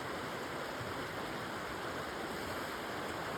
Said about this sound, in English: And this river here, yes, she's a river.